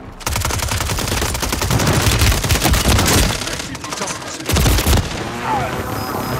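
Sustained rapid automatic gunfire from a shooter video game, dense bursts of shots with brief gaps and a few heavier booms.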